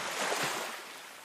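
Waves washing onto a seashore, a short, steady broadband surge of surf that swells slightly and then eases off, heard alone without talk.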